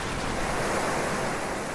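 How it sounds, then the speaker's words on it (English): Water sloshing around in The Last Guardian video game, a brief steady wash of broadband watery noise with no distinct splashes and no talking. "Look at that water slosh around."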